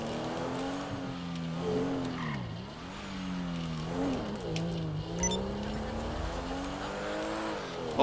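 A Porsche driven in GTA 5 Online, its engine droning steadily with pitch rising and dipping as it revs and shifts, tires briefly squealing, loud and continuous with no talk.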